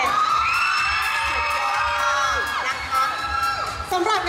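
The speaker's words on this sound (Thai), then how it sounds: "ขอเสียงกรี๊ดนิดเดียวจะได้หายเหนื่อย" A large crowd at a singer's appearance at AEON Thanks Day 2014 screams and cheers loudly, high-pitched shrieks and shouts swelling and overlapping, close and continuous throughout.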